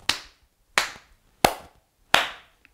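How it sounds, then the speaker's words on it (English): Four crisp, evenly spaced claps sounding in a slow steady pulse, close and clear with silence between them, from a children's seated knee-tap and hand-clap rhythm game; the softer knee taps are barely present. "Tap, tap on the knees, clap of the hands."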